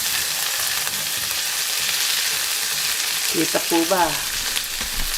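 Garlic, celery and onion stir-frying in a pan for a zucchini vegetable dish, a loud continuous sizzle close by, with a brief spoken question in Filipino over it near the end.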